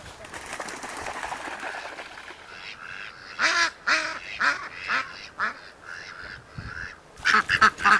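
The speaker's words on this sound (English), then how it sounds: "Ducks and other birds." Several ducks quack in short, loud bursts, close by and overlapping, with quieter calls and outdoor noise between them, at a lake in Chiltern, Victoria.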